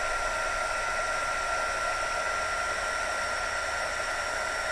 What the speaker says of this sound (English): Another bit of heat embossing.